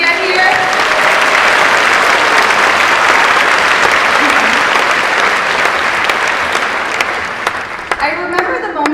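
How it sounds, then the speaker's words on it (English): Big audience applause at a 2014 UC Davis MBA commencement ceremony: sustained, dense clapping from a large crowd that fades slightly near the end, with a few voices surfacing. "can we just get another big round of applause for all the blood, sweat, and tears it took us to get here?"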